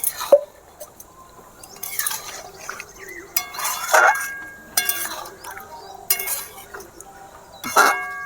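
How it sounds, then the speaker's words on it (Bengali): Water splashes and drips in several short pours into a pan of chicken gravy with onion and capsicum, mixed with light clinks of utensils and a voice speaking between bursts. "গ্রেভি করার জন্য আমি একটু অল্প জল দিয়ে দেব"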